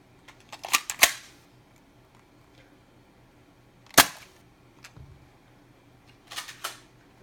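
A Nerf Reflex IX-1 toy blaster shoots foam darts with sharp spring-loaded snaps, a quick cluster of clicks at first, then a single shot and a final pair, close and crisp over quiet background.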